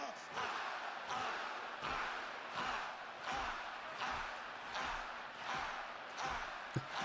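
Wrestling arena crowd at an AEW pay-per-view chanting along with Booker T, a dense roar of many voices rising and falling in steady rhythmic pulses about every second and a half.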